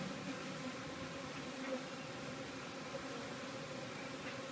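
A honeybee swarm moving into a hive box produces a steady, dense buzzing drone that holds even throughout, close and continuous with no voices.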